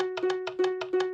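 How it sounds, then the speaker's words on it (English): A Minecraft note block triggered by a redstone signal in the video game, sounding its set pitch in the voice of the instrument beneath it. Short bright plucks repeat about six times in quick succession over a steady sustained tone. "When a redstone signal is run to a note block, the note block plays the pitch it was set to"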